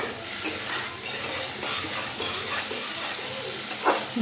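Paneer cubes fry briefly in a pan of hot oil, a steady close sizzle with soft stirring scrapes running throughout.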